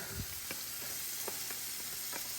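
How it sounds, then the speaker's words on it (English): Onions and peppers sizzle on a Blackstone 17-inch E Series electric griddle with a little avocado oil, a steady close hiss broken by a few light spatula taps. "I'm gonna come in now and drop these onions in."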